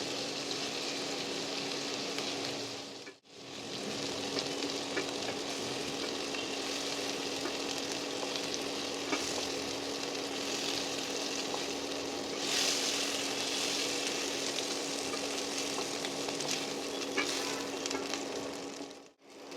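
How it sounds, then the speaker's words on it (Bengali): Chicken pieces frying in hot oil make a dense, continuous sizzle and crackle close by for the whole stretch, with only a brief dip partway through. "চিকেনের টুকরোগুলো ভালো করে ভাজা হয়ে গেছে"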